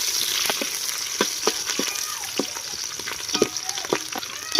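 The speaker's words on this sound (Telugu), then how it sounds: "మనకు ఉల్లిపాయలు గోల్డెన్ బ్రౌన్ కలర్ వచ్చేంత వరకు అయితే ఫ్రై చేసుకుంటే చాలండి" Chopped onions fry in oil in a pan for a pulao, giving a steady close sizzle broken by regular scraping stirs, with no talk.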